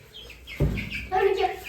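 Chickens cluck and chirp in short bursts close by as they are put into a new coop, with a brief thump and some shuffling in between.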